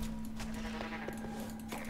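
Goat demon in the video game Book of Demons bleating, a short wavering sheep-like cry over a steady low game hum, fairly quiet.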